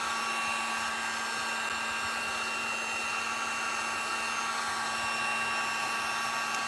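A hair dryer blows steadily on a painted patriotic craft piece, a continuous close whirring roar with a faint motor whine that holds even and loud throughout, with no talking.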